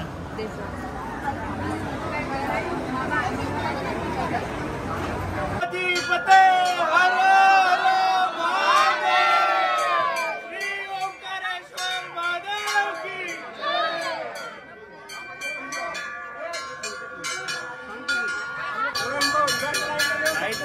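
A packed crowd of devotees murmurs inside the Mahakal temple in Ujjain on a Monday, a low babble of voices under nearer talk, joined partway through by ringing bells and chanting.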